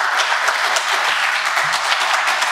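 Steady applause from a seminar audience at a health care policy event fills the room, dense and even, with no voices over it.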